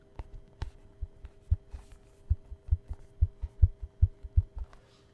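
A pop-top disc golf disc gives off a low, soft heartbeat-like pulsing, a steady run of paired thumps repeating at a regular rhythm under a faint steady hum, close and quiet with no voices.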